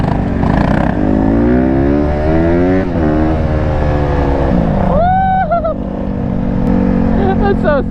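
A dirt bike engine holds a loud, steady rev during a wheelie, then climbs and drops in pitch partway through. Excited voices talk over the engine noise.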